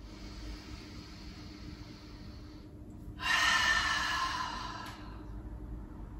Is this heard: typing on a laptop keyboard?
no